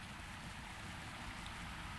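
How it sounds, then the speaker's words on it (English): Waterfalls in a video game, a steady broadband rushing wash of falling water, constant and unbroken throughout. "You can hear the waterfalls"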